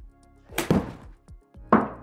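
Golf iron strikes on a ball at a practice session: two sharp, solid thwacks about a second apart, close by, with quiet pauses around them.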